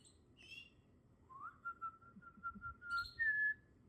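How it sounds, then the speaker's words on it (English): Pet canaries chirp and whistle among the branches of an indoor Christmas tree, a sustained clear whistled note and short bright calls rising over a soft, steady room murmur. "Really fun thing to have canaries."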